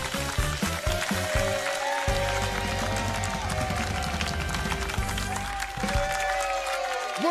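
Studio audience at a Romanian television game show clapping for the host, loud dense applause running the whole time under bright theme music with swelling tones and beats.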